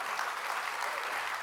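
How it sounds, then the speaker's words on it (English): An audience at a Citrix Workspace presentation applauds, a brief, even wash of clapping from a crowd, moderately distant and steady throughout. "I'm sure what they're clapping about"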